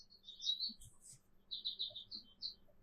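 Bright, high bird chirps in short bursts and quick trilled phrases over a quiet background, fairly faint and a little distant.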